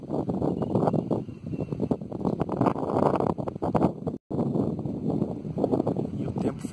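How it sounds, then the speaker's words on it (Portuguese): Strong wind gusting beside the Iguaçu River on a fishing trip, buffeting the microphone with a loud, continuous roaring rush that swells and dips, with one brief cut-out. "Ixi, muito vento, cara."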